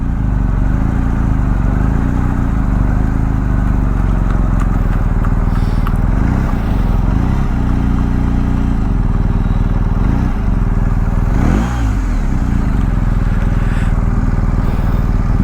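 A 2022 BMW R 1250 GS Rallye motorcycle engine idling steadily nearby, a loud continuous low rumble with brief rises in revs and no speech over it.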